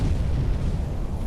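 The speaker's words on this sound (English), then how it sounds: "Wasserbomben!" A depth charge detonates in the submarine video game UBOAT, a deep, continuous low rumble that rolls on heavily throughout without a sharp attack, loud and close, with no speech.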